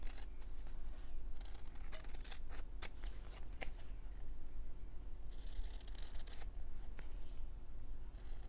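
Scissors snipping through fabric for a quilted frame, close and quiet, with crisp cuts in short bursts and pauses between them, and no voices.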